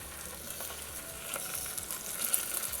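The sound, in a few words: vegetables (beans, carrot, green peas) sautéing with onions in pan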